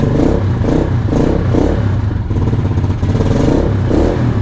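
A KP Mini 150 motorcycle started cold on choke after sitting a couple of weeks, with its small engine chugging loudly and unevenly in close, pulsing bursts of revving, heard alone.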